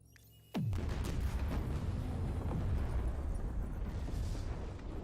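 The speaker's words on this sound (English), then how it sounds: "explosion" A sudden loud explosion in the Halo Infinite video game hits with a sharp crack and drops into a deep, sustained rumble that lingers for several seconds.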